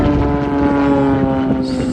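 A propeller airplane flying aerobatics at a World War 2 weekend airshow gives a steady, loud engine drone with a strong tonal hum that holds throughout, and wind buffets the microphone.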